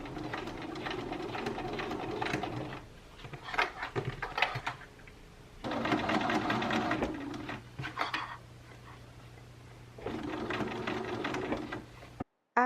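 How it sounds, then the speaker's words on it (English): A sewing machine stitches a shirred top in three bursts of steady whirring, separated by short pauses with faint handling noises. "So now that it fits, I'm just going to sew it all the way around."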